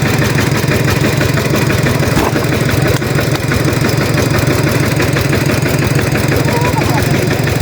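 A farm tractor engine runs steadily close by, a loud, continuous throbbing rumble with an even beat and no pauses throughout.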